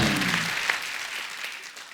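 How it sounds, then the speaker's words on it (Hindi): Studio audience applause on a comedy talk show set, a steady wash of clapping that tails off over two seconds, with a low voice fading out at the start. "उसके लिए जोरदार तालियां।"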